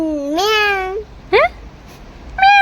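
A person imitates a cat, giving a long rising meow, a short second meow, and a third starting at the end, all close and clear.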